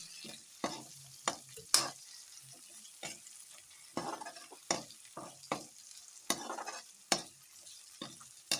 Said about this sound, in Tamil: தக்காளியை போட்டு கொஞ்சம் நல்லா வதக்குங்க